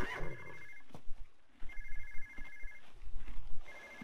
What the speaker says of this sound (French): Là, il y a le téléphone qui sonne, donc on va aller répondre au téléphone.